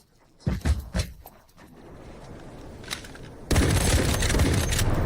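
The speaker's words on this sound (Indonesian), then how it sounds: "ada suara tembakan di dalam gedung" A quick burst of several sharp gunshots inside a building in the video game Delta Force, followed by a rising hiss and then a loud, sustained roar of noise.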